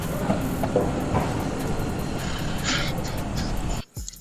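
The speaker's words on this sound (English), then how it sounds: "That sounds like Thomas the Train leaving the station." A train sound effect, like a small engine leaving a station, rumbles steadily with rail clatter and a few higher hissing bursts, then cuts off abruptly near the end.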